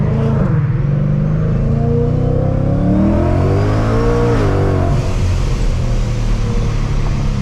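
A 700whp Ford Mustang engine revs hard and close, its loud, continuous roar rising and falling in pitch without a break, with no voices over it.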